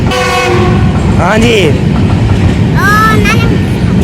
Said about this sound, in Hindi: आए चलेगी रेलगाड़ी, हम भी पहुंच गए